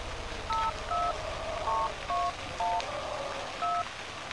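Touch-tone keypad dialing in the horror video game Cry of Fear, a string of six or seven short steady dual-tone beeps at uneven spacing, clear over a quiet, hissy background.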